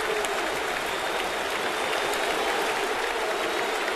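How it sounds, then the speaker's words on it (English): A packed Yankee Stadium crowd roars during a 2009 ALDS postseason baseball game, a broad, sustained wash of cheering and clapping that stays loud and even throughout. "As the crowd here in Yankee Stadium gets up."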